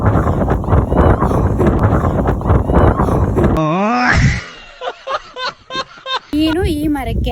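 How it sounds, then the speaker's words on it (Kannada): Wind in a village gusts hard against the microphone, a loud, rough buffeting roar for several seconds that drops away abruptly, after which a person speaks and laughs in the quiet. "ಬರೀ ಗಾಳಿ ಸೌಂಡೇ ಕೇಳಿಸಿರ್ತಾರೆ"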